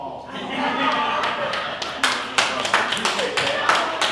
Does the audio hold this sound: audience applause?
yes